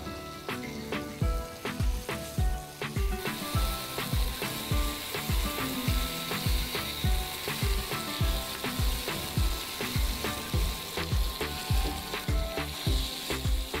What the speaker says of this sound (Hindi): इसे शैलो फ्राई टाइप से करना है जी।